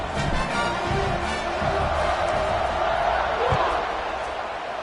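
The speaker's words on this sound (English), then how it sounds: "this crowd is feeling themselves after that last drive" A football stadium crowd before a kickoff makes a continuous broad wash of cheering and murmur under a commentator's voice.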